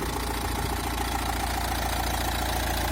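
A 2018 Renault Trafic van engine idling steadily nearby, a constant low rumble with a rapid, even mechanical pulse.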